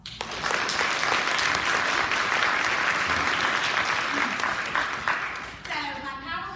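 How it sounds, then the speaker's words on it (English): A school audience at a middle school winter sports assembly breaks into loud, sustained applause that fills the hall for several seconds, then fades as a voice resumes speaking. "I just think she deserves a round of applause."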